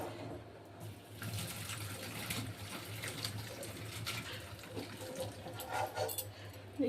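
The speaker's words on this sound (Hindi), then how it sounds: "क्योंकि इसका पानी निकाल देंगे इसमें" Water from boiled pasta being poured off in a home kitchen, a steady running, splashing pour that continues evenly for several seconds with no talk over it.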